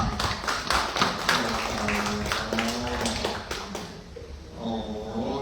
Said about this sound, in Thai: เอาปรบมือบูชาธรรมหน่อย